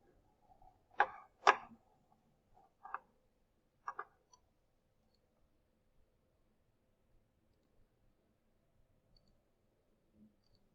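Calculator keys pressed while typing an equation: a few quick, faint clicks close together near the start, then scattered soft taps in an otherwise quiet room.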